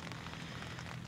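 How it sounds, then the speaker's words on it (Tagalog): Light rain patters softly and evenly at a foggy mountain campsite on Valeras Peak, a faint steady hiss of drops with no voices. "Konti-konti lang yung ulan."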